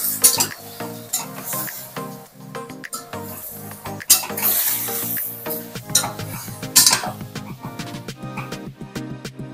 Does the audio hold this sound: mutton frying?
yes